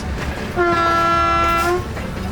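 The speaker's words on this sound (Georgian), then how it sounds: "1872 წლის 10 ოქტომბერს მატარებლის საყვირის ხმა პირველად გაისმა თბილისშიც." A train horn sounds one long, loud, sustained tone close by, over the rumble and clatter of a train rolling along the rails.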